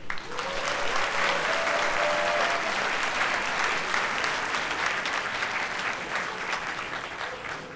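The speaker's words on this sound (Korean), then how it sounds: "지금부터 배재고등학교 139회 졸업식을 힘찬 박수로 시작하겠습니다" A crowd applauds steadily and loudly at the opening of a Korean high school graduation ceremony, a dense wash of clapping that holds for several seconds before easing slightly toward the end.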